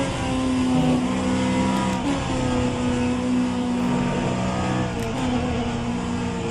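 A race car engine in the sim racing game rFactor 2 holds high revs against the rev limiter, a loud continuous buzzing drone with steady harmonic tones that waver slightly as the throttle stays pinned.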